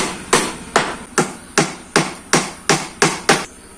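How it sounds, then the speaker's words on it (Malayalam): Nails hammered into wooden boards while a stingless bee box is built: nine sharp, evenly spaced hammer blows ring out close and loud, each decaying quickly, with no talking. "ഈ ആണികൾ ഈ പലകേനെ കൃത്യമായിട്ട് അടിച്ചുറപ്പിക്കാം."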